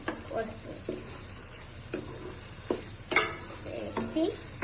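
Mutton liver frying with masala in a pan, a low sizzle broken by several close spatula scrapes and clinks at irregular intervals, with faint indistinct voice-like sounds in the background.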